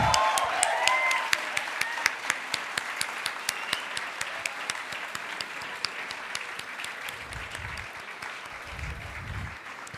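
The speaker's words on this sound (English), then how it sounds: "let's hear a tremendous round of applause for our very own distinguished alumnus, Chef Vikas Khanna." A crowd applauds steadily throughout at a hospitality school event welcoming a chef, dense clapping with a few sharper claps standing out, gradually thinning slightly toward the end.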